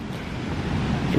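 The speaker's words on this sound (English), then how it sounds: "You can probably hear it rushing in the background as we're approaching the falls at Stainforth." Steady broadband rush of water from the falls at Stainforth, heard while walking toward them on a countryside ramble near Langcliffe; a continuous low roar, moderately distant, with wind-like noise and no talking.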